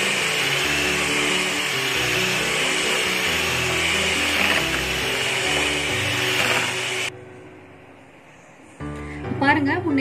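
Electric beater whipping cream for a Black Forest cake, a loud steady motor whir for about seven seconds that cuts off abruptly, followed by quiet and then someone speaking.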